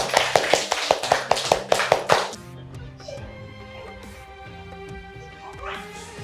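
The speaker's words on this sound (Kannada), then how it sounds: "ಚಪ್ಪಾಳೆ." Children at an anganwadi preschool clap their hands in quick, rhythmic unison, about a dozen sharp, loud claps in a steady beat. The clapping then stops and voices carry on in the room.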